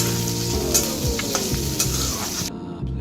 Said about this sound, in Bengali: এবার একটু নাড়িয়ে সামান্য ভাজা ভাজা করে নিতে হবে